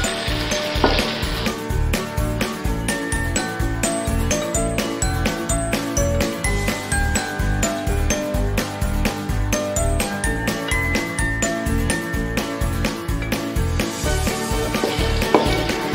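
Chicken pepper fry stirred in a pan with ghee, a steady rhythmic scraping and sizzling that stays loud and close throughout, with faint metallic clinks and no voices.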